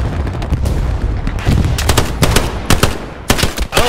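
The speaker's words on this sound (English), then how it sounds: "Dude, don't go up there. There's artillery." Heavy battlefield firing in Hell Let Loose, loud machine-gun bursts and sharp artillery-like cracks arriving in uneven clusters, close and constant throughout.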